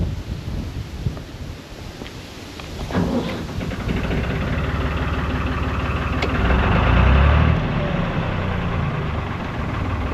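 A narrowboat's diesel engine starts and settles into a steady low idle under heavy gusting wind noise, with the rumble swelling briefly near the end. No one speaks.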